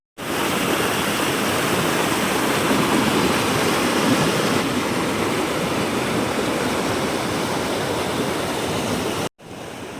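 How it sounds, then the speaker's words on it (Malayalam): Periyar river water rushing hard over rocks at Poru waterfall, a loud, steady roar of broadband noise with no letup until a brief break near the end. "പെരിയാറിൻ്റെ ശക്തമായ ജലപ്രവാഹം കല്ലുകളുമായിട്ട് പൊരുതി നീങ്ങുന്നതിനാലാണ്"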